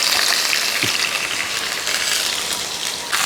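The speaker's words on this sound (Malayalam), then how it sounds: "ഇപ്പോൾ തേങ്ങക്കൊത്തൊക്കെ ഇട്ട് നമ്മൾ ഒന്ന് ഇളക്കി കൊടുത്തു" Coconut pieces frying and being stirred in a pan give a steady, bright sizzle with a couple of soft scraping stirs, close and fairly loud, with no talking.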